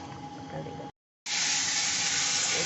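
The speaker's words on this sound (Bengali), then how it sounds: "খিচুড়ি ফুটছে এখন" Pot of khichdi made from leftover rice, with water added, boiling on the stove: a steady broadband bubbling hiss that cuts out briefly, then returns louder and denser, near and continuous.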